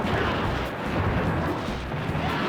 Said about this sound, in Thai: ปิ้ว ปิ้ว ยิงจากระยะไกลอย่างเดียว